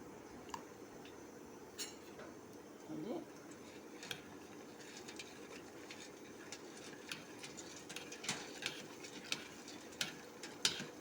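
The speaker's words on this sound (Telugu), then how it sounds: "ఇంకా కొట్టి కలుపుతున్నాను అనమాట ఫ్రెండ్స్" Jaggery is pounded and stirred for panakam, giving a steady run of light ticking and tapping knocks against a vessel over a low background hum, with soft talk now and then.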